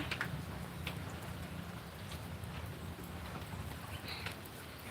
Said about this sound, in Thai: ฝนตกนิดหน่อยนิดหน่อยเองนะคะ